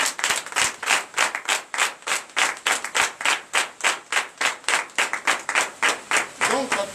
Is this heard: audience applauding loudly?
yes